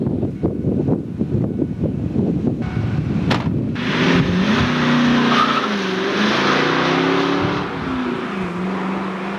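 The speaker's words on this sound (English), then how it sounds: "Well, before it starts raining, we're going to take this Mustang out." A Ford Mustang with a 5-speed is driven hard on an old racetrack at Boulder Reservoir, its engine revving loudly and close with shifting pitch, tires squealing and skidding, and no talk.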